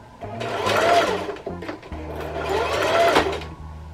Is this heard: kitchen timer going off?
no